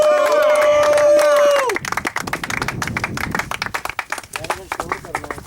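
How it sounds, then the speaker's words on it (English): A crowd at a cricket match presentation claps and cheers for their captain, man of the match; a sustained tone with talk opens, then a dense patter of applause follows. "I want huge roar from you guys, a huge applause for your captain Ubaid Malik"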